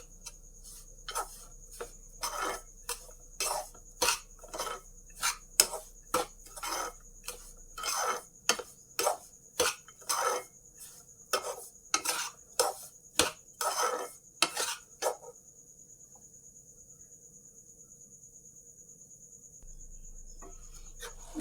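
Dry fruits and coconut roasting in a pan for coconut laddoo, heard as a steady run of sharp scraping and clinking strokes from a spatula against the pan for about fifteen seconds, then near silence.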